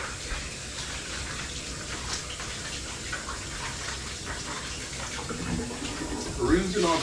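Tap water runs steadily into a kitchen sink as raw thawed beef is rinsed under it, a continuous close splashing gush that swells slightly toward the end.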